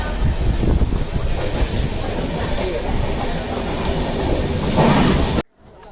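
A Konkan Railway train rolls out of Rajapur station, its steady rumble and rhythmic wheel clatter heard loud and close from on board before the sound cuts off abruptly.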